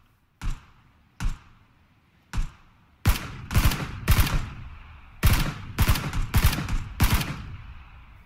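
Gunshots ring out in PlayerUnknown's Battlegrounds: three spaced single shots, then a quicker run of sharp reports with echoing tails, some doubled, spread over several seconds at moderate distance.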